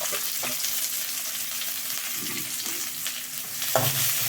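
Onions sizzle and crackle in hot oil, a steady frying hiss with a few clinks of stirring in the pan.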